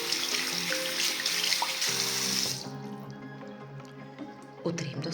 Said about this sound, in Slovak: Potom ho jedno spláchnem.